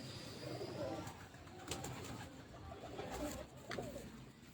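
Pigeons cooing, a flock kept in a rooftop loft in the breeding season, with soft, low, repeated coos rising and falling alone over a faint steady background hum.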